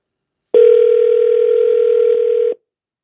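A telephone dial tone sounds while calling back a caller during a radio call-in show, a loud steady tone held for about two seconds, starting and stopping abruptly, with no talking.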